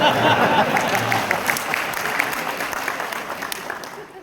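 An audience in a hotel hall at a motivational talk claps loudly together, the applause gradually thinning and fading away over a few seconds.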